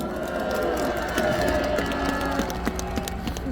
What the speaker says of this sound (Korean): 우리 경찰에게 큰 박수 부탁드립니다